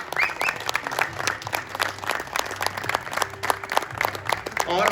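Audience applause at a gathering in Sialkot, steady dense clapping from a crowd continuing throughout at moderate loudness.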